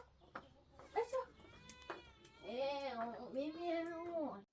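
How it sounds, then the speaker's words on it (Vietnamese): A cat meows repeatedly with drawn-out, wavering cries, several in a row with short gaps, fairly close, with some background voices at a rural farm setting. "bé mèo"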